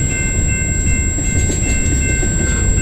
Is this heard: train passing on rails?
yes